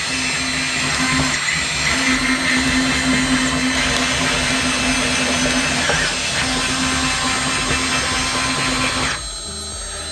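The hydraulic pump of a Komatsu PC228 RC excavator model runs with a steady whining, buzzing drone at close range, continuous and loud before dropping off near the end.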